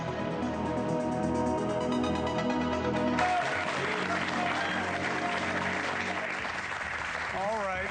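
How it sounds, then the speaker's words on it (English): An audience at a television town hall breaks into applause, a steady wash of clapping that swells after a few seconds and continues to the end. "they're all applauding"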